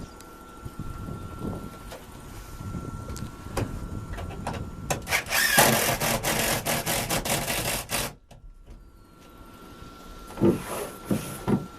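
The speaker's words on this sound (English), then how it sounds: "you just run all these screws up in to pull the roof down in the proper position." A power drill drives screws up into the roof of a wooden hunting blind, with a few seconds of loud grinding, whirring bursts midway, framed by softer rubbing and knocking on the wood.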